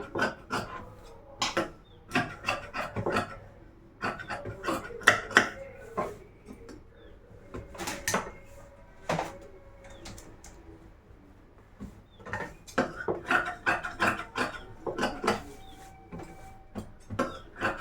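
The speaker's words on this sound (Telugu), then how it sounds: "ఈ ఎక్స్ట్రా క్లాత్ మొత్తాన్ని అయితే కటింగ్ అయితే చేసేస్తున్నాను" Scissors trim extra cloth off a blouse during sewing, producing close, irregular bursts of crisp snipping and fabric rustling, separated by short quiet pauses.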